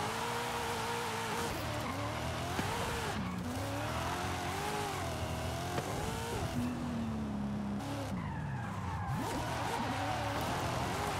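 A BMW M2 drifting in Forza Horizon 5, its engine wailing and revving continuously as the tires squeal through long slides, loud and up close with no break in the noise.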